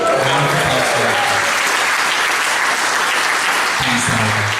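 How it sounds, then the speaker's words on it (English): A seated audience gives a loud, sustained round of applause, dense clapping filling the whole moment, with a speaking voice briefly heard over it at the start and end. "Round of applause for her."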